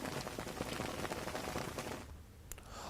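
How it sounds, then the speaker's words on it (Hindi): Heavy rain falling outdoors, a dense steady patter and hiss that thins out toward the end, fairly faint and with no voices. "आज सुबह से ही जोरदार बारिश हो रही है।"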